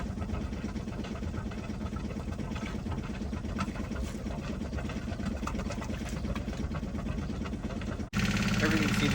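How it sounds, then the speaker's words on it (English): Yanmar 1GM10 marine diesel running steadily at the back of a boat, its exhaust chugging in a continuous rhythmic drone, close and loud, with a sudden shift in tone near the end. "And here's the exhaust at the back of the boat."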